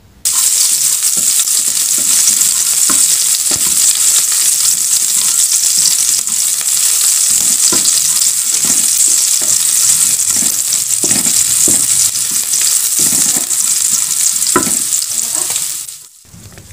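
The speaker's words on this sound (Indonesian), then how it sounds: "Kita tumis dulu bawang putih dan bawang merahnya yang sudah dicop atau dicincang halus." Finely chopped garlic and shallots stir-fry in a pan for a bitter melon and salted egg dish, with a loud, steady sizzle and frequent scraping stir strokes throughout, cutting off near the end.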